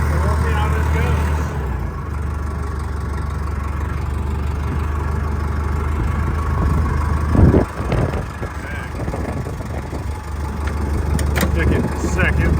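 A Massey Ferguson 1085 tractor engine runs steadily with a deep low rumble throughout, holding a constant near drone with a brief louder surge partway through before settling back to idle-like running.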